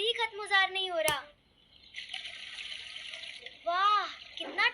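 Cold, fresh water flows and splashes in a village setting as a steady broadband rush with a brief sharp knock; childlike voices and other vocal sounds are heard before and after.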